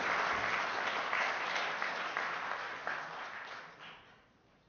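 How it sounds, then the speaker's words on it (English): Audience at a university engineering graduate commencement applauds doctoral candidates, a sustained wash of many hands clapping in a large hall, steady at first and gradually dying away. "Can I have a big round of applause for all our doctoral candidates?"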